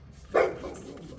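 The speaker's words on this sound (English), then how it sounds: "neighbor's dog over there" A neighbor's dog gives a single short bark from some distance away, a brief sharp burst standing out over a quiet background.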